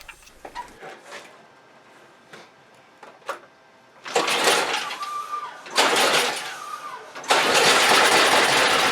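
A Toro snow blower that would not start gets cranked with clicks and ticks, sputters in short bursts, then catches on the third try and roars steadily, loud and close.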